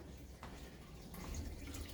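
Aquarium water drains out through a siphon hose from a Red Sea E260 reef tank, a faint, steady trickle with soft drips in a quiet room.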